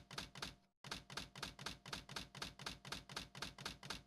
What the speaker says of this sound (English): why is this typing so slow?